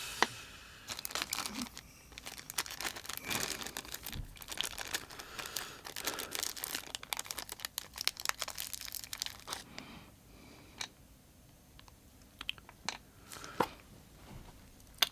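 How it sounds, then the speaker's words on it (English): Plastic bag crinkling and rustling as a model locomotive centre axle with spacing washers is pulled out of it, close and busy for most of the clip, then quieter with sparse crackles near the end. "So just extract it from the plastic bag with the spacing washers."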